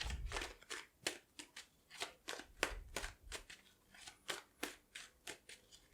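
Tarot cards being shuffled in short, crisp bursts of riffling and slapping, close-up and fairly quiet, repeating in an uneven rhythm, with no talk.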